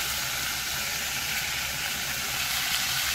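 Chopped tomato hitting fried translucent onions in a hot pan while making masala tomato rice, giving a steady close hissing sizzle throughout with no voices.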